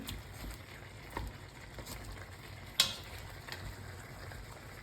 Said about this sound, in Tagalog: I-mix muna natin siya dun sa ginisang kamatis.